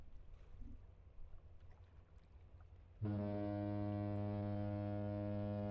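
A ship's horn sounds in The Great Ace Attorney: Resolve, a loud, steady, deep harmonic blast that starts partway through and holds to the end, after a few seconds of low ambient background.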